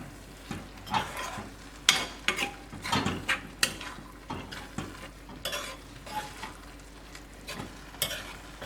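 Chicken keema mixture with lemon juice is stirred in a pan, the spoon scraping and clacking in irregular bursts over a soft sizzle of frying, with no talking.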